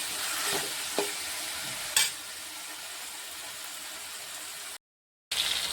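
Mustard seeds and cumin sizzle in hot oil for an onion stir-fry, a steady broadband frying hiss with a couple of sharp pops or stirring clicks, close and fairly loud, breaking off to brief silence near the end before resuming.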